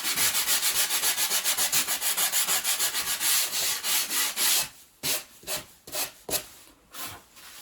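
Fibreglass on the ribs of an Orkney 23 sea fishing boat is hand sanded, starting with fast, even back-and-forth rasping strokes close up, then slowing into fewer, irregular rubbing passes.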